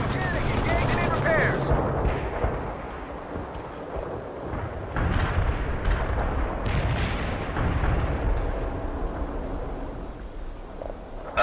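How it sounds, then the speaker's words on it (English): Artillery barrage in the real-time strategy game World in Conflict, with loud, continuous booming blasts and rumbling explosions rolling on for over ten seconds, dense and sustained with no quiet gaps, battlefield chatter faintly underneath. "Artillery firing."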